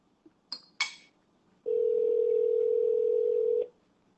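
A phone call to a cell phone that may be dead: a couple of faint beeps as the number is dialled, then one long, steady ringback tone of about two seconds that stops abruptly, with no voices.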